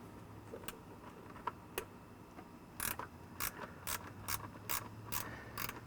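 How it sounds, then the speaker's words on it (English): A ratchet wrench tightens a ground cable bolt on the fender well of a Ford truck, giving a series of quick, faint clicks in uneven rhythm at close range with no voices. "I'm going to go ahead and bolt that to the fender well here, to this bolt here on the side"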